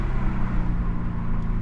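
Deep, loud exhaust rumble from a Lexus IS F with a muffler delete during downshifts, heard from inside the car with the windows down, a brief continuous low growl.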